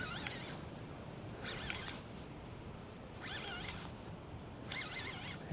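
Zip ties are pulled tight on a riverbank while catfishing, four quick ratcheting zips spaced about a second apart, close and crisp over quiet outdoor background.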